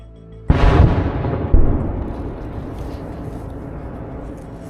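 Artillery shells from other gun positions in a forest valley, two heavy booming blasts about a second apart, each followed by a long rolling rumble that slowly fades, loud and echoing.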